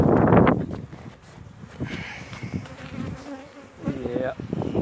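Bees from a relocated hive buzz close to the microphone, a strong burst at first then lighter, wavering passes as individual insects fly by against faint outdoor background.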